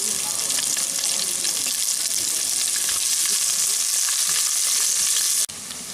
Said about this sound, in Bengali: পেঁয়াজটাকে হালকা বাদামি রং করে ভেজে নিচ্ছি